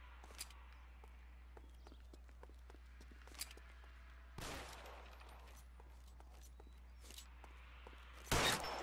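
Gunfire from the crime-era video game L.A. Noire: a few sharp shots ring out, scattered across the scene, with a louder burst near the end over a low steady background hum.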